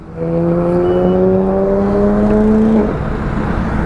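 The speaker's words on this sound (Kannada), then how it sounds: "Oh, ಇನ್ನೊಂದು ಪೋರ್ಷೆ GTR dude." A Porsche GTR sports car drives past, its engine note a loud steady drone that rises slightly in pitch before dropping abruptly as it goes by, heard alone without talking.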